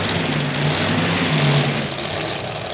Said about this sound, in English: Danny O'Day with a funny little snaky type burnout as he pulls up to the starting line.